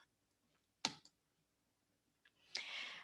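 A computer mouse clicks while working in HMIS case-management software, giving a few faint, sharp single clicks spread apart in a quiet room, ending with a brief rustle.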